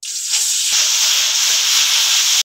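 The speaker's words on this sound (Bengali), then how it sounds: "ভোগটা বানানোর জন্য কড়াইতে জল দিয়ে দেবো।" Water hits a hot kadai while cooking Karmabai khichdi, letting out a loud, steady steam hiss that flares sharply at the start and holds for a couple of seconds before cutting off.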